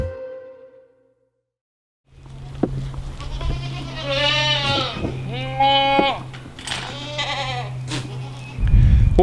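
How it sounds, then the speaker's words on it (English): Baby goats at a barn bleat repeatedly and loudly at close range, several wavering calls in a row over a steady low hum, with a louder burst of noise at the end. "the baby goats are growing like weeds"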